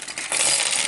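A quick, bright clatter of small plastic Lego pieces dropping onto a surface and skittering away, close and short with no voices.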